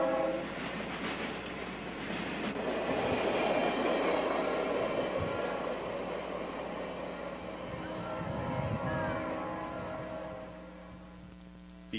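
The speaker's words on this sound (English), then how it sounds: "a road railer passes now closed NS Tower" A RoadRailer train rolls past on the former Pennsylvania main line near a closed NS tower, a steady, sustained rumble of wheels and rail noise heard from a distance.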